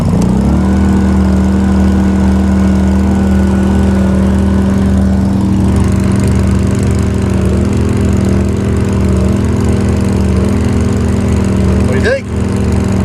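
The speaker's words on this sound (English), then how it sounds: "we're gonna go ahead and pull start this thing" A Harbor Freight Predator 2000W inverter generator runs steadily after a pull start, a loud, close, constant engine drone with a small gasoline motor's hum that holds an even pitch throughout.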